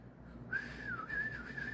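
A soundboard whistle effect, a faint wavering tone that rises and dips for just over a second over a quiet background hum.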